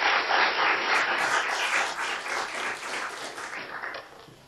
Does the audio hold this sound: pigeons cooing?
no